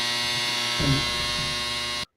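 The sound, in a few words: clothes dryer running in the background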